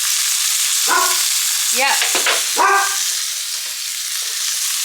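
Butter sizzles loudly and steadily in a frying pan up close while a dog whines and yelps several times over it, with a brief word spoken.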